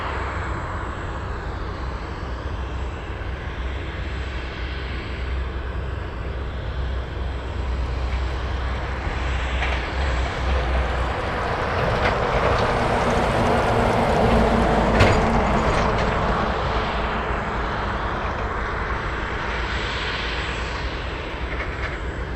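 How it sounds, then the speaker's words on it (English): A Gulfstream III business jet departs Anchorage airport, its broad engine roar swelling gradually to a peak and slowly easing, distant to mid-range and heard alone without talk. "That's a Gulfstream 3 flying to Oakland"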